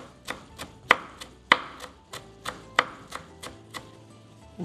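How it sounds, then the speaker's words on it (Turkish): Knife chopping fresh parsley on a board for lentil köfte, a steady run of sharp, close taps in an uneven rhythm, a few louder strikes standing out, with no talking. "maydanozumuzu doğradıktan sonra"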